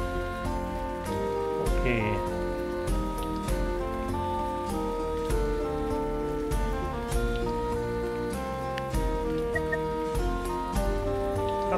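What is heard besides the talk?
rain falling in the video game Dot Age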